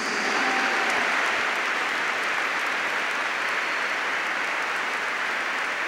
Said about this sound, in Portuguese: Vamos aplaudir mesmo, irmãos.